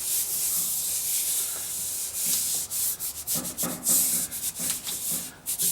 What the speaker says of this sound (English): Make sure you rub it correctly so that everything is stuck.